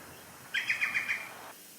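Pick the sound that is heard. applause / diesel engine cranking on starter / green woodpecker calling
green woodpecker calling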